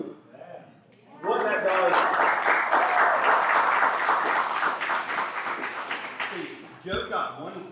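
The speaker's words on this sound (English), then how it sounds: "I come up and I get a clap." Audience clapping as a presenter comes up during a community final presentation, a sudden burst of many hands applauding steadily for several seconds that slowly tapers off, with speech before and after.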